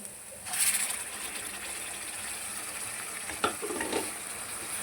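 Masala fries in oil in a pan, a soft steady sizzle with a louder burst early on and a few stirring clinks later, fairly faint and without speech.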